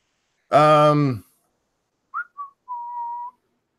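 After a brief spoken word, a short whistled tune follows: two quick chirps then a steady held note, clear and close in a quiet room.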